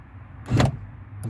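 A single quick mechanical clunk as the central locking on an Opel Astra F releases through its keyless entry system, close and crisp, with a faint second tick just after over a low background hum.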